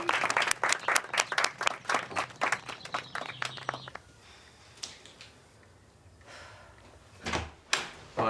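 A small group claps for Jake in brisk, overlapping applause lasting about four seconds, then it fades into a quiet room with a few scattered knocks and thuds.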